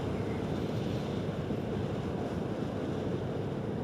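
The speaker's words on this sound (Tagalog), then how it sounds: "Sobrang lakas ng hangin dito." Strong wind roars into a DJI Mic Mini during a night ride on a Vespa Sprint S150 scooter in Bataan, a dense, constant low rumble, with no voices present.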